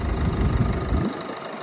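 A Renault Koleos 2.0 dCi engine idles nearby with a steady, even low rumble that cuts away about two-thirds of the way through, leaving faint background hum.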